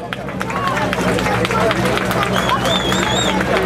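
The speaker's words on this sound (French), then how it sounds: "En 3e position, on peut l'applaudir." At the Tour de Corse 2015 rally podium finish in Porto Vecchio, a crowd applauds with scattered claps under a steady outdoor hubbub while an announcer speaks over a loudspeaker.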